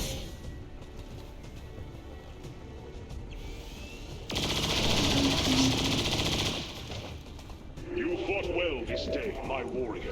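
A sustained saturation-fire machine gun burst in the strategy game XCOM Long War of the Chosen, a loud dense roar of rapid gunfire lasting a couple of seconds amid game sounds, with a voice talking around it.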